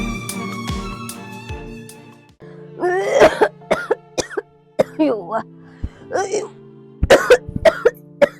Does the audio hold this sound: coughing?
yes